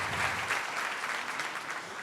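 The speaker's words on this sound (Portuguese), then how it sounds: "salva de palmas aí pro Daniel e pro grupo." Dense audience applause at an organizational culture meeting fills the whole stretch, a steady, fairly loud wash of many hands clapping with no talk over it.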